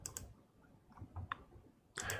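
Mouse clicks on a computer during a GeoDict 2021 software workshop, a few light, sharp clicks spaced apart with a quiet pause between them and a louder burst at the end.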